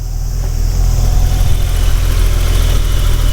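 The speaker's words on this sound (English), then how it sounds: "It has the sound of lifters that need to be adjusted because this is a solid lifter engine, not a hydraulic lifter engine." A BMW E30 Touring's 2.5-liter inline six idles close up with steady, even loudness, its solid lifters in need of adjustment, giving a fast mechanical ticking over a low rumble.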